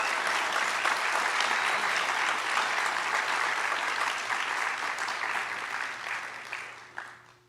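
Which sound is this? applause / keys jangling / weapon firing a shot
applause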